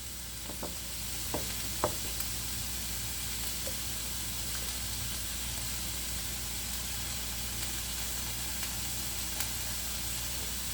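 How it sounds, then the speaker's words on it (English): Onions sautéing in a pan for Calabrese peperonata, giving a steady, hissing sizzle throughout with a few faint spoon taps near the start. "Give it a stir."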